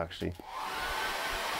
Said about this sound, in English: Let's get the hairdryer on that.